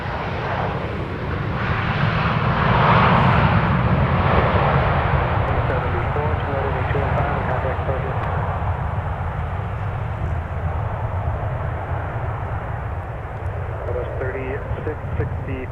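A Delta airliner arrives at Minneapolis airport, its jet engines a broad, steady roar that swells and then holds for the whole stretch, with voices talking over it.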